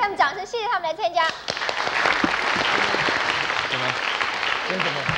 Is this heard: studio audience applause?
yes